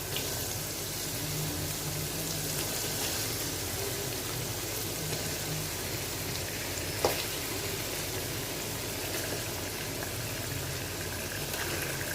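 Chicken pieces go into a pan of fried spiced masala, a soft, even sizzle running throughout with one small clack partway through and no talk.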